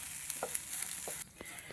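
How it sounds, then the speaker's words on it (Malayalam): Pork frying in a non-stick pan while it is stirred, giving a soft steady sizzle with a few light scraping strokes, faint and close, no voices. "ഇളക്കി കൊടുത്തുകൊണ്ടിരിക്കുന്നു."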